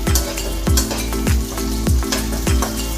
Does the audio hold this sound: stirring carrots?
yes